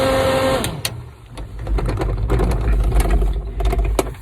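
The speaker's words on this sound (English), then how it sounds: "And it's got an extractor fan as well." An extractor fan in the roof vent of a Ford Transit Connect micro camper van whirs steadily, with a mechanical hum and low rumble that change tone partway through, plus a few faint knocks. No one speaks.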